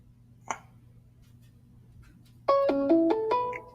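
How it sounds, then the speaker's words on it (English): A phone ringtone plays as an electronic melodic tone pattern of several stepped notes, loud and close, after a quiet stretch with a single faint tick. "Yeah, yours is ringing."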